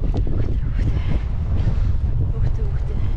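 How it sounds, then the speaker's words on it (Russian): Strong wind on high ground in Divnogorsk, Krasnoyarsk Krai, Siberia, buffets the microphone in a constant low roar throughout, with no clear speech over it. "Территория такая возвышенная, из-за этого тут гуляют ветра. Очень-очень ветрено прям,"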